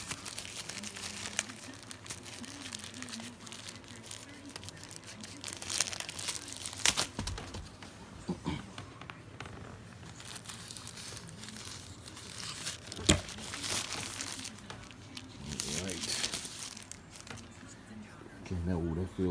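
A plastic pouch holding a DJI Osmo Pocket extension rod is handled up close, giving a long run of soft crinkling and rustling with a few sharper crackles, while a voice speaks quietly at times.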